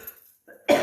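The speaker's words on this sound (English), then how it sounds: "I am coughing." A single short cough, close and fairly loud, after a brief quiet moment.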